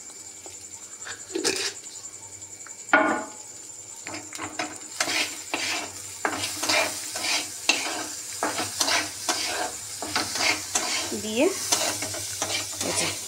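A ridge gourd dal cooks in a pan with turmeric and salt, sizzling steadily in hot oil while a utensil scrapes and clatters against the pan in repeated stirring strokes, and a voice speaks briefly.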